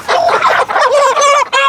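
Chickens squawking loudly and close as they are caught at night for harvest, a run of harsh, agitated cries lasting under two seconds.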